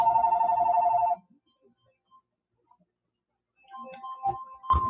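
A phone rings with an incoming call, a steady repeating electronic ringtone for about a second that then cuts off, followed by silence and some faint handling noises and knocks.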